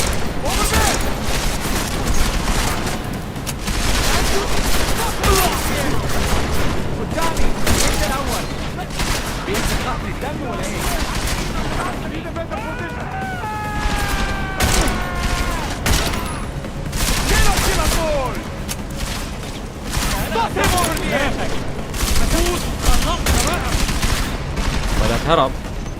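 Gunfire in the action game Deus Ex: Mankind Divided, from a revolver, loud repeated shots and bursts that carry on through a long firefight, with brief lulls and some whining sounds in the middle.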